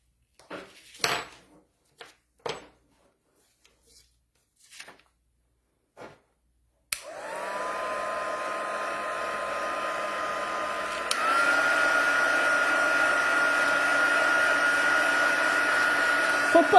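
A heat tool switches on and blows a steady, loud whirring roar while melting embossing powder on a handmade card, preceded by a few light tapping and handling clicks; the pitch shifts partway through as the airflow continues.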